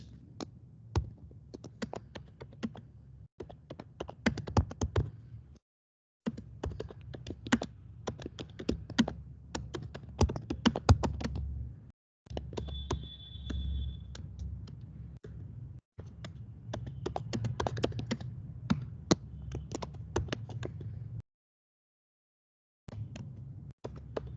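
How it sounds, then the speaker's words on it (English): Keys clatter on a computer keyboard while a command is entered in Git Bash, bursts of fast close tapping broken by several short pauses, with a low hum underneath and no voice. "You need to type in the git bash."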